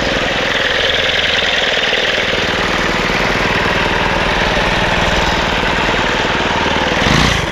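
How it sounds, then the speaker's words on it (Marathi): A farm machine engine at a cashew orchard, left unused for several days, runs steadily with a loud, continuous mechanical drone and rapid knocking pulse, no voices. "चालू झाली मशीन."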